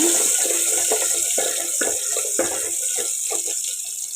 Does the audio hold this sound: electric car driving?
no